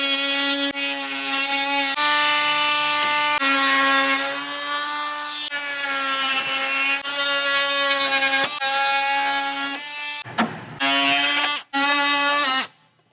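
A high-pitched power tool whines steadily as it cuts plastic support pieces during a front winch bumper install on a 2022+ Toyota Tundra, loud and close, pausing briefly and restarting near the end.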